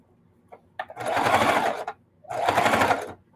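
A sewing machine stitches a quilted casserole pad in two close, loud runs of rapid whirring stitches, each about a second long, separated by a short pause, with a few faint clicks before the first run.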